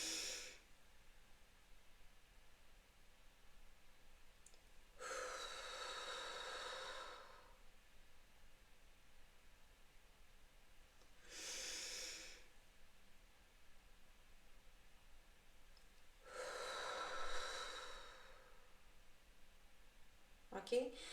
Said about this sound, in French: Qu'on bloque notre respiration quelques secondes et qu'on expire sur 5-6 temps.